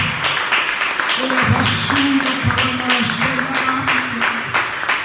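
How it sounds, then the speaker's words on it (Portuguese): A church congregation applauds with a steady wash of clapping throughout, while music plays underneath. "Você pode dar uma salva de palmas para o nome do Senhor?"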